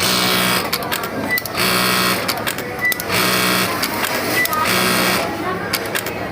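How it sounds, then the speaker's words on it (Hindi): A Juki DDL-8000A industrial sewing machine runs with its thread trimmer cutter firing, giving a loud, dense mechanical whir broken by repeated sharp clicking cuts at a roughly even pace. "आवाज़ सुन रहे हो ना कटर चलने की"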